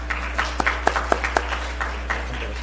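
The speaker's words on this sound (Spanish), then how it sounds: "Lo recibimos con fuertes palmas, por favor." Scattered claps from a conference audience welcoming a Colombian nutritionist speaker, a thin spread of individual hand claps with sharp isolated peaks over a steady low hum, fairly sparse and moderate in level.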